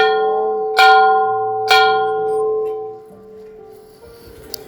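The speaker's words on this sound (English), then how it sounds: "So I always ring the bell." A temple bell rung before a Hindu goddess shrine, two distinct strikes about a second apart, each ringing out with a long shimmering metallic decay that fades to quiet near the end, no talking over it.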